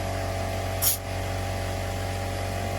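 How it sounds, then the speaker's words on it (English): A short hiss of spray paint bursts out once, close and brief, over a steady low mechanical hum, while painting a camper. "I'm gonna try my luck at spray painting."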